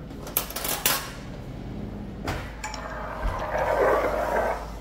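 A spoon clinks against a cup, a few sharp taps early on, while coffee and Coffee-mate are stirred. A soft swishing scrape follows toward the end, close and quiet with no talk.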